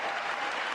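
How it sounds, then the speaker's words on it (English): An audience at a State of the Union address gives a standing ovation, with dense steady applause that fills the whole moment. "Standing ovation."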